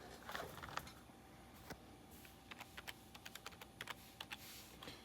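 Typing on a computer keyboard while configuring Active Directory on an iMac G5: a quiet, close run of irregular key clicks that grows more frequent and rhythmic toward the end.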